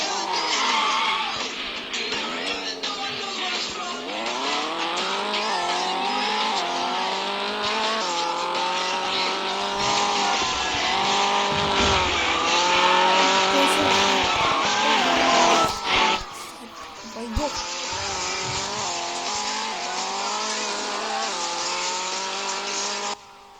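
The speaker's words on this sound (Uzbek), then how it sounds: "Hozir mana mashinalar o'yin qilyapman." Car engines in a racing video game whine and rev continuously, rising and falling in pitch through gear changes, with tire squeals and skids mixed in, loud and sustained throughout.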